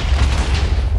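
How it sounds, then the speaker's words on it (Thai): A large explosion set off by a trap in the video game Minecraft fills the moment with a loud, dense, sustained low rumble, heard alone. "ว่าจะเกิดระเบิดขนาดใหญ่ขึ้นนะครับผม"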